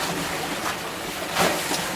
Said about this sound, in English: And so we turned up the engine, sails are up